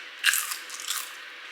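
A sharp, crisp bite into crunchy vegetable peel crisps, followed by a second of softer crackling crunches, close and fairly quiet.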